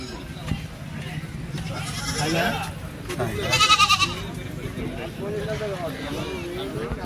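Goats and sheep bleat at a busy Sunday livestock market at Chilpur Gutta, several calls rising above a constant crowd murmur, with people talking throughout.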